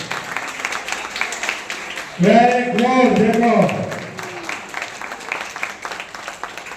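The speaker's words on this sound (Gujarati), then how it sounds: "આપણા તાળીઓ પાડીએ ભાઈ" Clapping from an audience at an awards and sports activity show, a steady patter of hands under a man's speech and a brief sung or shouted phrase.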